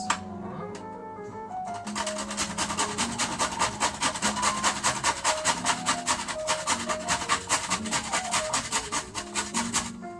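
Whole nutmeg rubbed against a grater in a home kitchen during Christmas cooking, a steady rhythmic rasping of repeated strokes, close and fairly loud, with no talking.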